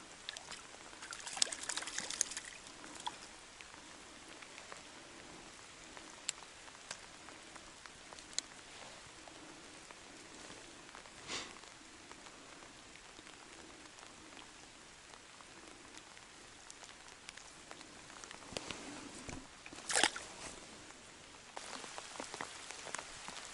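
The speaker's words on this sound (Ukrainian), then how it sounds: "Ого, дощ припускає конкретно." Rain falls on the bank of the Dniester river during shore spinning fishing, a steady soft patter of drops on surfaces with scattered louder close drips and taps throughout.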